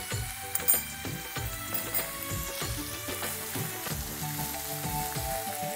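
Pepper, garlic and ginger fry in a pan with a steady crackling sizzle, punctuated by rhythmic scraping and stirring knocks of a utensil, close and fairly loud throughout with no talking.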